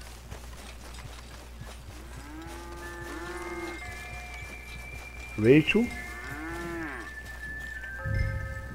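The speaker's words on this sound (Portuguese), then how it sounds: "As vacas estão aqui." Cattle lowing inside the Red Dead Redemption video game, a few drawn-out moos at moderate distance over steady ambient game sound, with a louder burst midway and someone speaking briefly.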